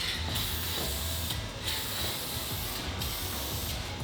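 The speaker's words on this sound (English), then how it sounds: "It's time for clear coat. Duplicate color, clear effects, glitter time." Dupli-Color Clear Effects glitter clear coat sprays from an aerial can onto car steering wheel accents and gauge rings, a close, continuous hissing spray with brief pauses about every one and a half seconds.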